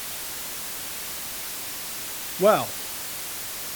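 Digital white noise fed through a wave-folding patch in Pure Data produces a steady, even hiss that runs unbroken the whole time, with a brief spoken word in the middle.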